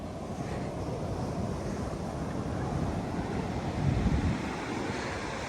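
Steady surf washes onto a beach in Australia at sunset with a constant roar and a slight swell near the end, mixed with wind buffeting the microphone, with no talking.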